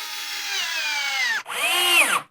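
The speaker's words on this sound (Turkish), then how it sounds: "İşaretlediğim yerin üstüne denk getirip delme işlemine başlıyorum." A power drill whines in two bursts, its pitch dipping and rising as it bites into PVC plastic, with a short break between bursts.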